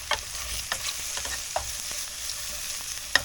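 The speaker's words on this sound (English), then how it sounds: "now we throw in our garlic" Garlic frying in a pan alongside chicken of the woods mushroom, a steady close sizzle with a few sharp clicks and scrapes of stirring scattered throughout, no talking.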